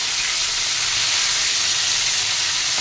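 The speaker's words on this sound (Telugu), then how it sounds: "మిరపకాయలు వేయించాలి. మిరపకాయలు కూడా వేయండి. అరటికాయ ముక్కలు వేసాము." Green chilies and raw banana pieces fry in a pan for a Telugu raw banana curry, giving a steady, even sizzle and hiss that holds close and loud throughout with no talk.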